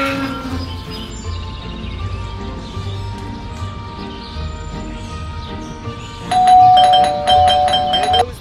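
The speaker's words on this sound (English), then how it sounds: "There goes that stupid bell again." A doorbell rings in the video game Scary Teacher 3D, a loud multi-note chime that comes in after several seconds of quieter game background sound and repeats. No one speaks.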